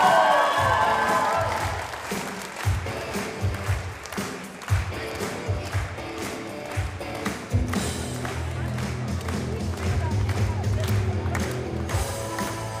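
Arena crowd at a Polish Ekstraklasa handball match for Energa AZS Koszalin clapping and cheering loudly as a player is introduced, sustained applause with scattered thumps and crowd noise throughout.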